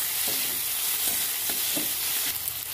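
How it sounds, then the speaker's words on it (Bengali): Chopped tomato and coriander leaves being stirred into onion and garlic frying in a pan, with a steady hot sizzle and a few soft, regular scrapes of the spatula close by. "ভালো করে নেড়ে চেড়ে নেব।"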